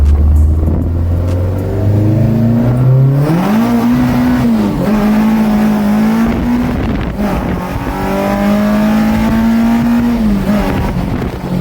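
A race-spec VW MK1 with a built ABF engine and Jenvey individual throttle bodies drives on the road, its loud, close engine note rising through revs, easing, then climbing again in a sustained rasping drone.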